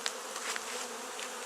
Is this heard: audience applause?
no